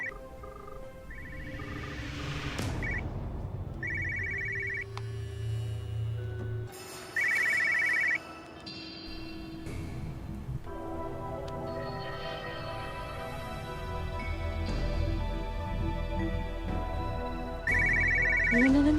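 A telephone rings in repeated short electronic bursts, spaced several seconds apart, over a busy background of music and room sound.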